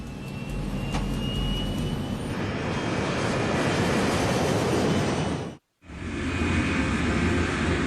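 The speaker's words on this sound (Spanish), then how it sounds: "Despegando." A Boeing 737 airliner takes off, its jet engines roaring loud and steady with a broad, rushing whine that persists, briefly cut off by a sudden gap before resuming.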